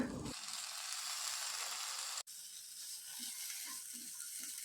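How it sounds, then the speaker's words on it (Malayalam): Two medium tomatoes, finely chopped, sautéing in hot oil for a Kerala-style chicken roast, a steady broadband sizzle close by with a brief break partway and faint stirring scrapes afterward. "അതിലേക്ക് ഒരു രണ്ട് മീഡിയം സൈസ് തക്കാളി ചെറുതായിട്ട് അരിഞ്ഞതും ഇട്ട് വഴറ്റാം"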